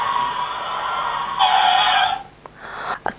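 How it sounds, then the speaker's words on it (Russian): A screeching car-brake effect from a push-button Cars-themed children's sound book plays as a loud, steady electronic hiss for about two seconds, then cuts off, followed by a few brief clicks. "а также звук тормозов"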